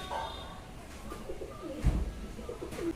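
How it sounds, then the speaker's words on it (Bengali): A pigeon gives a few soft, low coos up close against a quiet background, with a brief flutter or bump partway through. "আর এই হচ্ছে কবুতর"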